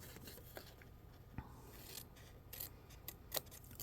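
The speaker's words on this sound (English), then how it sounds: "We're going to cut them out just perfectly on each" Paper card corners being cut out with scissors at a craft table, giving faint, close snipping clicks scattered over a soft background hiss, with a sharper snip near the end.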